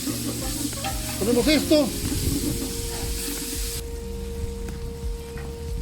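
Garlic cloves, eight to ten of them, fry and sizzle in a pot, a steady close hiss with stirring scrapes while a voice speaks briefly over it.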